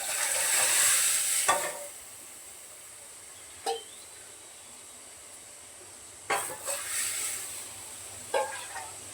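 Dal poured into hot sizzling tempering gives a loud hissing burst at first that quickly dies down, followed by a few shorter sizzles and stirring scrapes in a quiet kitchen.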